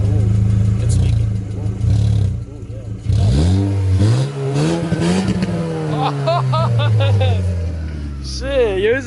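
A car engine revs loudly and close by in bursts, rising and dropping in pitch, while people talk and shout over it.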